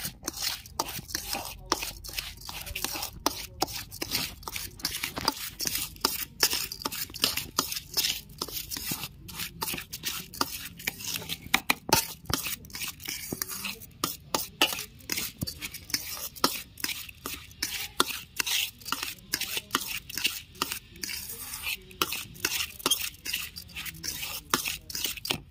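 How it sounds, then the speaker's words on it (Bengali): Hands mix washed rice with ghee and a little turmeric. Soft, irregular squelching and gritty rustles of grains repeat close and quiet for a long stretch, with scattered sharper clicks and no talk. "এবার আমি ঘি দিয়ে মাখিয়ে নেব। সামান্য একটু হলুদ দিয়ে দিচ্ছি। এবার ভালো করে আমি মেখে নেব।"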